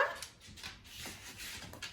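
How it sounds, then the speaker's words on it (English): A pet dog indoors at home gives soft, whimpering yips in short bursts, faint and close, with no talking. "this is my dog"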